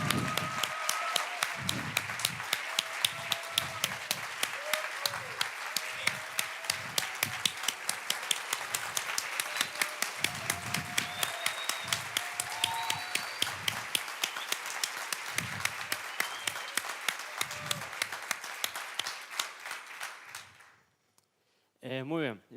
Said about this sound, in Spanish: Un aplauso para Juan Pablo, por favor.